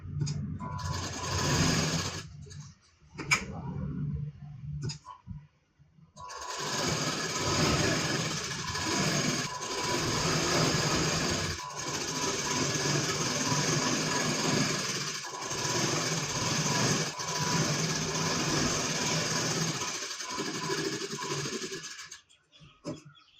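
Sewing machine stitching a blouse lining, its motor whirring in long, steady runs broken by a few brief stops, close and loud with no talking.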